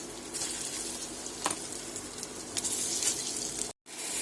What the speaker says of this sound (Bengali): মাখানো সয়াবিনগুলো ভেজে নেব